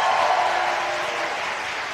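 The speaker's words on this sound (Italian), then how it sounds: "Oggi con noi sono presenti diverse organizzazioni che vorremmo accogliere ulteriormente con un grande applauso" Steady, broad applause from a conference audience welcoming participating organizations, sustained clapping filling the room throughout without pause.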